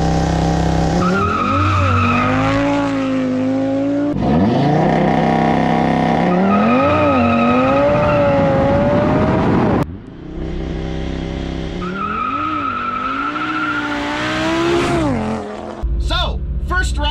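A fast car makes a quarter-mile run, its engine repeatedly climbing through gears in rising wails with sharp shift breaks, loud and close, with brief tire noise near the end.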